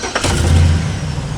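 2003 Chevy Avalanche truck with a K&N cold air intake and Flowmaster 50 series dual exhaust, its engine cranking and catching into a loud, close, rumbling idle within a second and a half.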